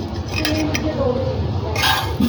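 Utensils clink against dishes as an Afghani-style fluffy breakfast omelette is served, light metallic taps and scrapes over a steady background hum, with a brief brighter clatter near the end and a voice talking.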